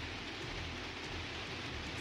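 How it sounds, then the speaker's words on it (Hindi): Heavy monsoon rain pours steadily in a dense, even hiss with a low rumble beneath, loud and continuous throughout with no voices. "देश के कई राज्यों में भारी बारिश से हालात बिगड़े हुए हैं।"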